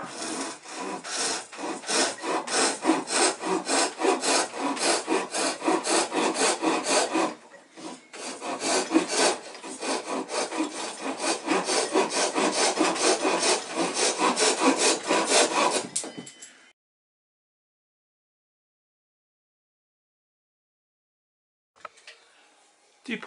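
A Japanese saw cuts wood for the bow of a toy boat, a steady rasping stroke repeating for about sixteen seconds with a short break, then silence and a faint knock at the end.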